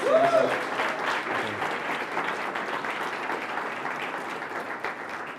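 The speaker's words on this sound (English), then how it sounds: "Chris, give a big round of applause" A crowd applauds steadily, a dense wash of clapping that holds at an even level and tapers slightly toward the end.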